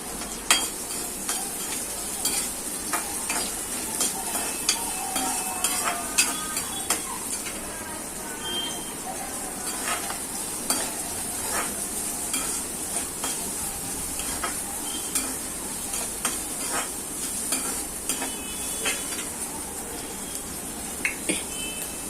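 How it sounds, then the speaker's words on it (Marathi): Garlic and onion sauté in a hot pan for cabbage Manchurian, giving a continuous sizzle broken up by frequent stirring scrapes and light utensil clinks close by, with no clear talking over it. "लसणाचा लसूण पण परतली तर कांदा घालूया"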